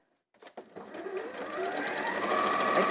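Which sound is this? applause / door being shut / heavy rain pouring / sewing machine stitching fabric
sewing machine stitching fabric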